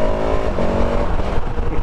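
A 2021 KTM 1290 Super Adventure S motorcycle pulls hard with a loud, close engine note, its pitch climbing and dropping sharply through quickshifter upshifts in brief succession.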